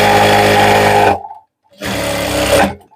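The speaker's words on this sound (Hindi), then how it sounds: "यहाँ पर लपकी सिलाई लगानी है" Close, loud sewing machine stitching a baby napkin in two bursts, a run of about a second, a brief pause, then another run before it stops.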